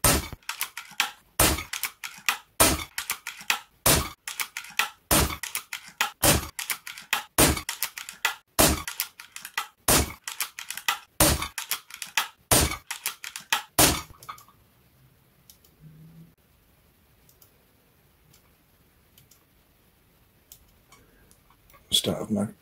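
A Zbroia Kozak bullpup rifle fires a full magazine as a steady string of sharp, loud single shots, about one every second for fourteen seconds. After that it goes quiet with faint handling noise and one last burst at the end.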